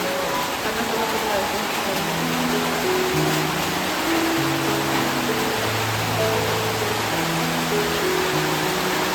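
A person wades through flood water around a home during a power outage, a dense, steady wash of sloshing water noise heard close, with low tonal hum or voices faintly underneath.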